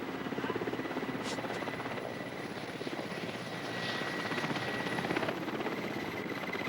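A helicopter hovers over treetops in a forest where a tigress is being captured, its rotor chop and engine drone steady and fairly loud throughout, swelling slightly toward the end.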